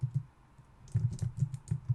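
Fast bursts of clicking keys as code is typed on a computer keyboard, close and clear, with a brief pause in the middle and no speech.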